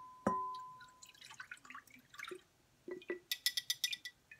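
Leftover buttermilk poured from a glass jar during homemade butter making on a farm: a sharp clink, then irregular glugs and a quick run of splashing drips, quiet and close.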